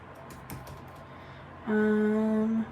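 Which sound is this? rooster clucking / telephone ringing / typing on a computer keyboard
typing on a computer keyboard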